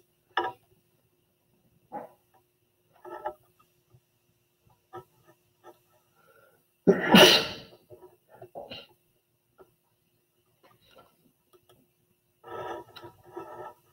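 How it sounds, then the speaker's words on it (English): A single sudden sneeze bursts out loud and close during allergy season, standing alone amid a quiet room with only faint scattered taps and small noises before and after. "It's allergy season and I had to sneeze."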